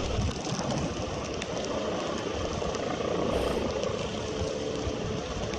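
A steady, broad roar of a helicopter flying in strong wind, bobbing and shaking overhead, constant and rushing like wind, with no clear rotor beat and no talking.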